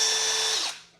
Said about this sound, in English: The hammer drill, this was the second tool I bought next to this one.